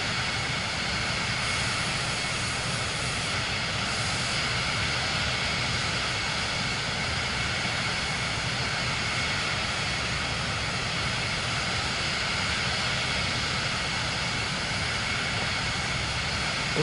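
Airplane engine drone in Microsoft Flight Simulator 2024 during a flight around Cairo before landing, a steady, unbroken roar holding level throughout with no speech.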